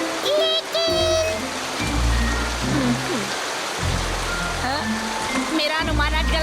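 Heavy cartoon rainfall hisses as a steady wash beneath animated Hindi dialogue, with characters talking over it nearly throughout.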